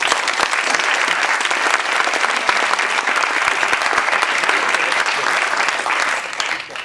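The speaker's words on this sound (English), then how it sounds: "please join me in a round of applause" A large audience at an academic panel on the prescription opioid epidemic gives sustained, loud applause, dense clapping that holds steady and then tapers off at the close.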